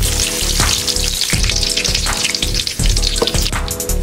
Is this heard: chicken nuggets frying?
yes